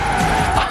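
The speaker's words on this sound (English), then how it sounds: "Now let's really shred those tires." Tires squeal as a car drifts in the racing game Forza Horizon 4, a brief, loud and continuous screech over a throaty engine drone.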